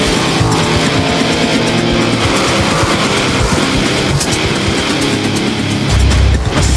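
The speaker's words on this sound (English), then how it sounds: "where some of the top drag boat racers in the country face off" Drag boats racing on a lake at the IHBA Nitro Nationals in California, single-propeller nitro dragsters topping 160 mph, make a loud, sustained engine roar throughout, swelling further near the end.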